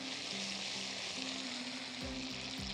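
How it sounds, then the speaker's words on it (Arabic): Garlic frying in a pan of ghee for molokhia, a soft, steady sizzle with faint stirring clinks toward the end and no talking. "تلاقي دلوقتي ننزل التوم بتاعنا"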